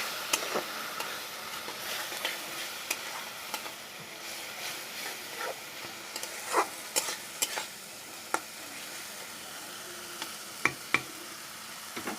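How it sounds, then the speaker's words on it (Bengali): A spice paste of tomato, chili powder, cumin, coriander and salt sautés in a pan with a soft steady sizzle, punctuated by repeated sharp scrapes and clicks of a spoon stirring, close and quiet, with nobody talking. "জিরের গুঁড়ো, ধনে গুঁড়ো আর দেবো স্বাদ মতো নুন। মশলাটাকে কষিয়ে নেব।"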